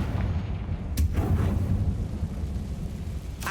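A Confringo spell explosion in Hogwarts Legacy lands as a deep rumbling boom with a sharp crack at its start, followed by a long low roar and another crack at the end.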